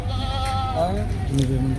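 Goats bleating at a crowded goat market, several wavering calls overlapping through the clip amid a steady background murmur of people talking.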